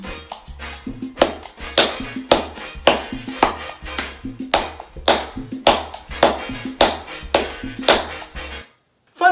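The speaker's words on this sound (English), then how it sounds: "Now, clap this mambo beat with me." Hands clap out a syncopated mambo rhythm over a Latin music backing track, crisp close claps in a repeating pattern that stops abruptly near the end.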